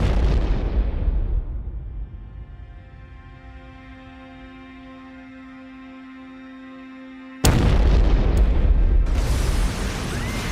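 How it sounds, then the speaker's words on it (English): A bomb blast in Havana: a loud, booming explosion decays into a long ringing tone, then a second burst of heavy, noisy rumble cuts in abruptly and continues. "Havana's luxury hotels, a vital source of foreign currency, have been hit by a spate of bombings"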